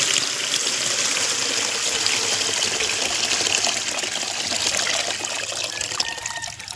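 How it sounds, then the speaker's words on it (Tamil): Tamarind water pours steadily into a pan with a continuous gushing splash that holds for several seconds, close and fairly loud, no voices. "இப்போ புளி கரைசலை ஊற்றிடலாம்."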